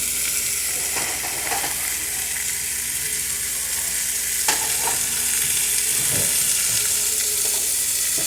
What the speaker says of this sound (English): What a beautiful sear to them.